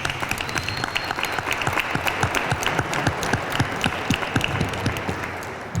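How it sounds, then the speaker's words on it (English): A crowd at a Cleveland City Hall celebration for the Glenville Tarblooders gives a sustained round of applause, a thick continuous wash of many hands with a few sharper claps standing out, and no speech. "y'all deserve a round of applause"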